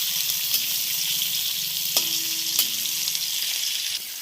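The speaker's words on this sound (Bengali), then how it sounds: "মাছটা এখন হালকা করে ভেজে নিচ্ছে।" Fish lightly frying in a pan, a dense continuous sizzle close by with a few sharp spatula clicks and scrapes partway through, no voices.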